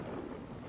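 Steady rain pours under a low rumble of thunder in the game Deadly Premonition, a brief continuous hiss with a deep roll underneath and no voices.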